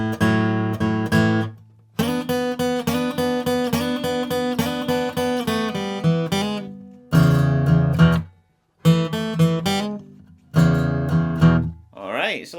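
A bluesy shuffle lick on a pitched instrument, with repeated plucked notes in short, loud phrases broken by brief pauses. It is heard close and alone, with no talk over it.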